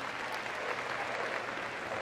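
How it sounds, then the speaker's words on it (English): Steady applause from the crowd at Crufts 2014 as a rescue dog clears the final jumps of an agility run, an even, moderately distant wash of clapping with no breaks. "Let's give him a big round of applause as he goes over those last jumps"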